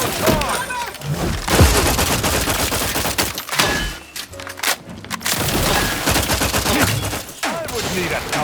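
Heavy, sustained gunfire in the video game The Outer Worlds 2, dense rattling bursts and booming shots that run almost continuously at loud volume, with game voices speaking among the shooting.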